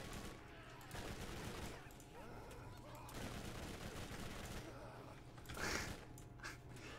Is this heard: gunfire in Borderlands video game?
yes